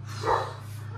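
A dog gives a single short, moderately loud bark, heard alone over a steady low background hum.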